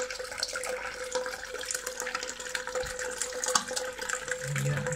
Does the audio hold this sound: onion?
no